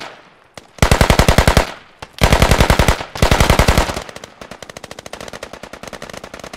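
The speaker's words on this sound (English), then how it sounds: "That's an M4." Automatic M4 rifle fire in the video game Squad, three loud rapid bursts of roughly a second each separated by brief gaps, followed by a lighter, steadier stream of quicker shots trailing off at a lower level.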